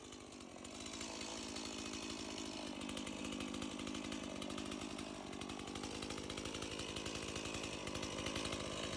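A Stihl chainsaw runs steadily and loudly at close range, its buzzing engine note holding constant for the whole stretch with no voices over it.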